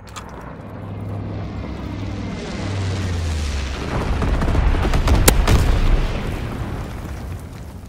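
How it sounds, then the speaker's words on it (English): Incendiary bombing run from a low-altitude bomber in Call of Duty WW2, a deep rumbling roar of engines and explosions building over several seconds with a sharp blast near the middle before easing off. "Low altitude bomber inbound. Incendiary mission commenced."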